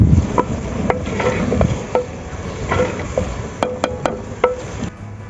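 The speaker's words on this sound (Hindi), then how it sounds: "इसको अच्छे तरीके से हिलाएंगे।" A spoon stirs onions seasoned with salt and crushed black pepper in a pan, a soft sizzle beneath scattered light scrapes and sharp metallic taps against the pan's edge.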